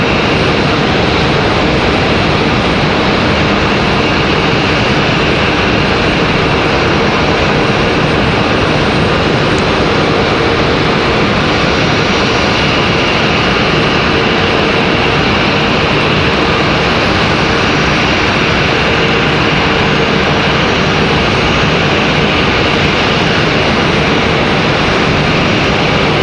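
Republic Airways jet airliner at Raleigh-Durham airport, a loud, continuous roar of jet engines filling the whole stretch without letup, broad and steady like a close takeoff or pass, with no speech over it.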